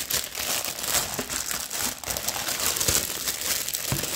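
Packaging is torn open around a diamond painting bear figure on a small base, giving close, continuous crinkling and rustling with sharp crackles throughout.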